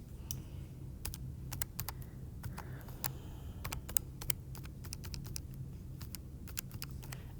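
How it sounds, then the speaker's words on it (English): Calculator keys pressed one after another while numbers are entered, a run of quick, sharp clicks in uneven bursts over a low steady hum, close and fairly quiet. "when I type that into my calculator"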